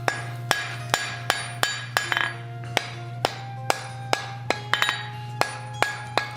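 Blacksmith hammering hot steel to bend a coal shovel: sharp, ringing hammer blows at a steady, roughly even pace, about a dozen strikes with metallic clinks, close and loud over a low steady hum from the forge.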